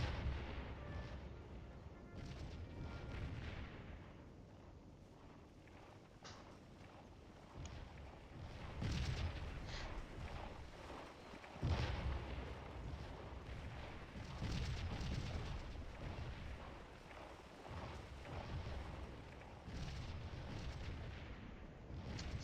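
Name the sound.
artillery fire in the video game Scourge of War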